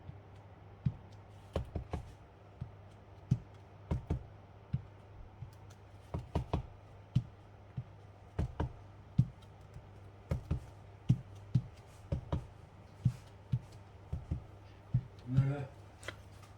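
Rubber stamps tap onto paper for card making, a series of sharp, close knocks in an uneven rhythm across a quiet room, with brief handling rustles between presses.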